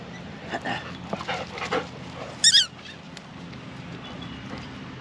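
Dogs bark in short bursts at moderate distance, several scattered yaps followed by a sharp cluster of loud barks, then quieter background.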